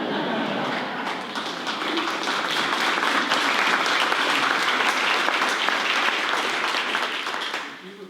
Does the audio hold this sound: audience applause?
yes